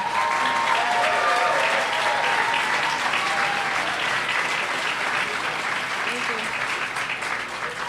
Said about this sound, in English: give her a round of applause and welcome her to St.